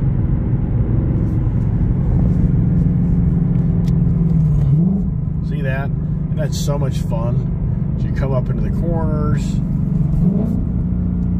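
A V8 car engine drones at steady speed, then a few sharp crackles and pops sound from the exhaust while someone speaks over it.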